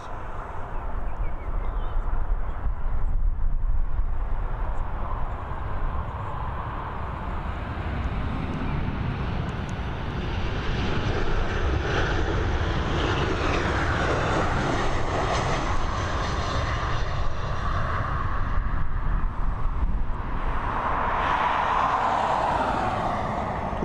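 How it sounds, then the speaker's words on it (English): A Ryanair Boeing 737 landing at Dublin Airport roars loudly and steadily, with broadband engine and wind noise that swells and shifts as it passes, accompanied by faint distant talk. "Nice landing there from the Ryanair crew."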